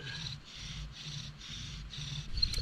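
A cedar spindle rubs back and forth on a cedar fireboard in a bow-drill fire attempt, making about five even, rhythmic rasping strokes that are close and fairly quiet, with no voices.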